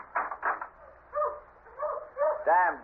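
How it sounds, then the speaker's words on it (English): Dogs bark and yelp in a radio drama sound effect, several distinct barks in an irregular series ending with a louder, drawn-out howl-like bark, heard alone without talk. "dogs are all stirred up again."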